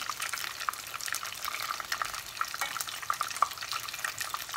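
Water runs steadily from a faucet or sink while something drains, a continuous mid-to-high splashing hiss at moderate level with no talk.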